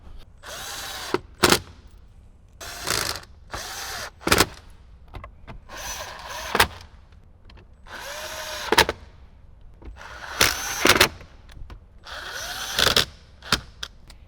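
A power drill drives screws back into the airbag of a 2018–2023 Jeep JL Wrangler, whirring in roughly six short, close bursts separated by pauses.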